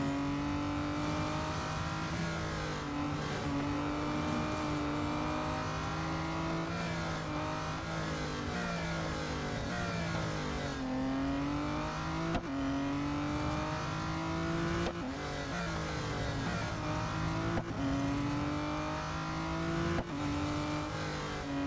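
Race cars roar through the final lap in the mobile racing game Real Racing 3, with a steady engine whine that rises and dips at each gear shift, joined by occasional tire squeal.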